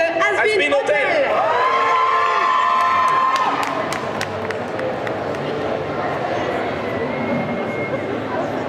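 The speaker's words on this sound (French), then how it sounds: "Allez, un tonnerre d'applaudissements pour Angel Das de Has-Been Hotel." A crowd at a cosplay show at a gaming festival cheers and shouts loudly, with excited voices and whoops filling the space and scattered claps beneath.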